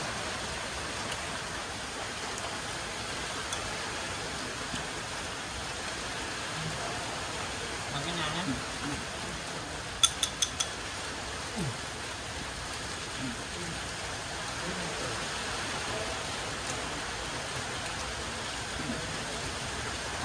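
Steady rain on a rainy afternoon, a constant close hiss of falling water with a few faint clicks partway through, no voices over it.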